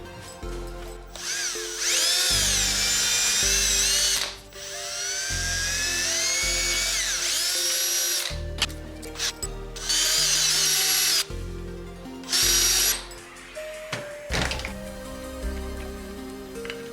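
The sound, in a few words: power drill making holes in an angle bracket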